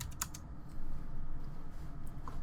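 Keys tapped on a computer keyboard while entering numbers in Adobe Illustrator, a few quick soft clicks near the start and then a low steady room hum.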